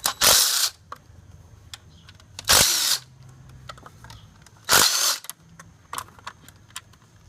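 Three loud bursts of a power drill or impact driver spinning out intake manifold screws on a VW Audi 2.0T TSI engine, each lasting about half a second, with quiet clicks and small metallic taps between them and no talking.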